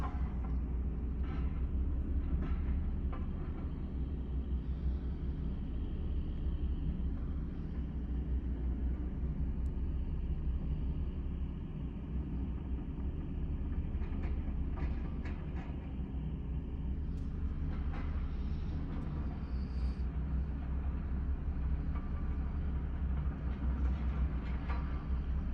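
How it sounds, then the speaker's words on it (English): A low, continuous mechanical rumble from an excavator moving around on a construction site at night carries steadily from a distance, with faint clanks and thin higher tones drifting in and out. "You can hear that excavator moving around"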